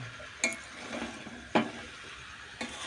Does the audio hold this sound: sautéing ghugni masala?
yes